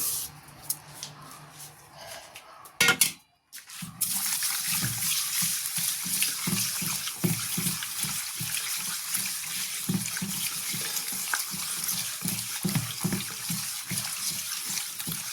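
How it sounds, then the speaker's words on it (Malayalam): Water runs steadily from a tap while sardines are scrubbed with rock salt in a bowl, with soft rhythmic splashing and rubbing over a continuous hiss after a brief bump and pause. "നമുക്ക് ഈ മീനെ കുറച്ച് കല്ലുപ്പ് ഇട്ട് ഒന്ന് നല്ലതായിട്ട് തിരുമ്മി കഴുകി എടുക്കണം"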